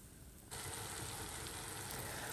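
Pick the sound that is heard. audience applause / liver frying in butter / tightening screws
liver frying in butter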